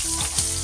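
Squid pieces frying in hot oil in a pan, Mangalore-style sukka, give a steady close sizzle with a couple of soft stirring swells, no voices.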